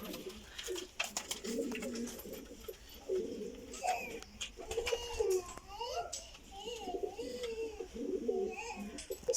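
Pair-kept and racing pigeons coo in repeated soft, rolling calls close by, with faint voices and light rustling in the background.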